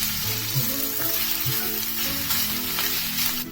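Raw mango pieces stirred into a sizzling tempering of mustard seeds, cumin, green chilli and curry leaves, with steady close frying crackle and a few soft scraping stirs of the spoon, no talking.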